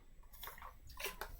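Water being drunk at a desk, a few short wet gulps and sloshes close to the microphone, quiet and brief with no talk.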